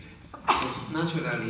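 A single sharp sneeze bursts out in a lecture hall during a public health lecture, close and loud, with the lecturer speaking before and after it.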